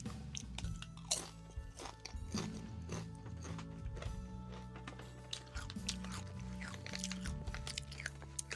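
Loud, close crunching of crisp protein chips being chewed, with repeated sharp bites and steady mastication throughout, no talking.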